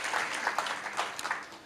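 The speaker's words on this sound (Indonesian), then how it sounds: "Kasih tepuk tangan buat Tuhan Yesus" A church congregation at an Easter-season service applauds during a sermon. The clapping is soft and a little distant, a dense patter with a few stronger claps over a short stretch.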